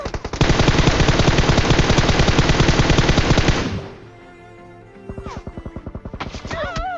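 Rapid automatic gunfire from a shooting video game, a loud sustained burst of evenly spaced shots lasting several seconds, then a short pause and another quicker volley with small clicks and electronic effects.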